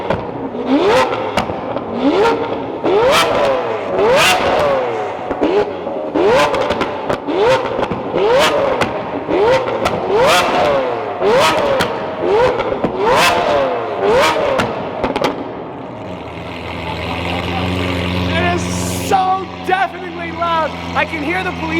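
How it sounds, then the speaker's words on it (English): A Toyota Supra's V12 with an FI exhaust revs hard again and again inside a parking garage, loud and close, each rising blip booming off concrete walls before it settles into a rough idle. "The sound of this V12 with the FI exhaust, it like penetrates through your soul."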